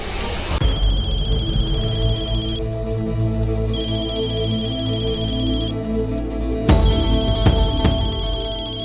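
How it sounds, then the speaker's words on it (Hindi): A telephone rings with a steady electronic warble that repeats in bursts over a low background hum, fairly close and clear. "अग्नि, दादी का फोन है।"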